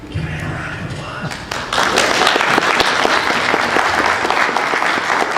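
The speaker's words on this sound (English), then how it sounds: "Give me a round of applause." Scattered claps quickly swell into loud, dense applause from a convention panel audience, sustained and close.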